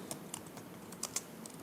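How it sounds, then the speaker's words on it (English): Quiet, close keyboard typing: a handful of light key clicks at an uneven pace, with no voices. "so I'm going to be typing"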